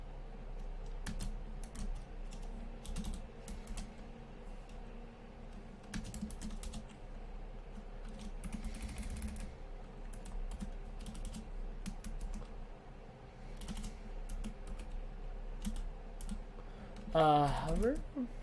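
Steady computer keyboard typing, a continuous run of quick key clicks at close range, with a person talking over it while building a basic website navbar.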